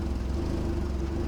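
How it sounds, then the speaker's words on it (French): A freshly rebuilt car engine idles steadily, a low throbbing drone with slight unevenness from running on ethanol, close by and alone with no talking. "Toujours des petites fluctuations, mais ça c'est l'éthanol qui fait ça. Mais au moins elle tourne."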